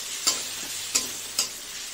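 Ground spice paste of onion, garlic, tomato and green chilli sizzles steadily in a pan for a fish curry, with three soft scrapes of the spoon stirring it up close.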